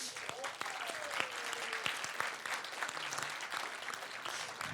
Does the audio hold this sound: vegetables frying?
no